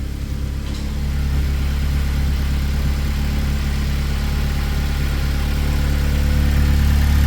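A Mazda RX-8 with a swapped Honda K24 engine idles with a deep, steady rumble and low burble through a full 3-inch exhaust, continuous and close throughout, with no voices.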